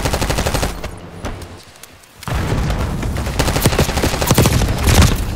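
Sustained automatic gunfire in Call of Duty Black Ops 6, loud and close, with dense rapid shots and booms that briefly drop away and then return in heavy volleys.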